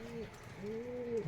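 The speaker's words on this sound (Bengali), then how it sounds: "এই যে কবুতর।" A single pigeon coos twice, soft rolling calls up close in a quiet spot with faint background noise.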